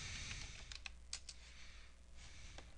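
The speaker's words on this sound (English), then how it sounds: "I'm going to type in IP config" A quick run of close, quiet keystrokes as a short command is typed on a computer keyboard, scattered clicks over a low background hum with no speech.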